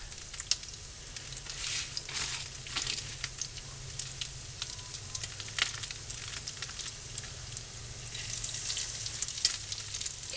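Chicken patties fry in a pan on a stovetop with a steady, close sizzle and scattered crackles and pops, rising a little toward the end, with no talking.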